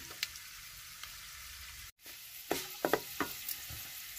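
Spice tempering for beaten-rice upkari crackling in a small pan, faint steady sizzle with a cluster of sharp pops and stirring scrapes near the end, quiet and close, no talk.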